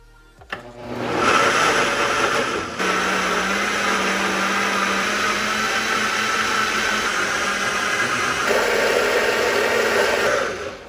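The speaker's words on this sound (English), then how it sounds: "Now that we just finished blending all the ingredients together" Nearby blender whirs loudly and steadily, mixing espresso pancake batter for about ten seconds. Its pitch shifts slightly partway through and the motor winds down at the end.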